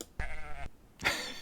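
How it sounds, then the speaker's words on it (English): A sheep in the game World Builder bleats in one wavering, nasal call lasting about half a second, close and clear, followed by a brief rough burst of noise. "Sheep. There we go."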